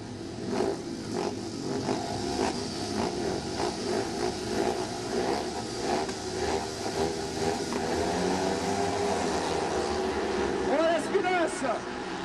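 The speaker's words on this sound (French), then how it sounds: "le dossard numéro 1, la moto miramontaise de Guillaume Comblon" Grass track racing motorcycles at the start line of an international meeting, engines droning and revving together in a loud, steady roar, with a commentator's voice running over them throughout.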